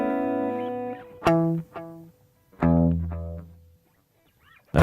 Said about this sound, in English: so you got a basic single repeat echo.